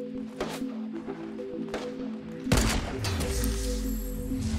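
Gunfire in Fortnite: several sharp shots crack in an irregular sequence over game sounds, followed by a louder, heavier blast and continuing rumble.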